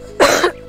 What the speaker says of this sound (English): Sorry, I can keep coughing.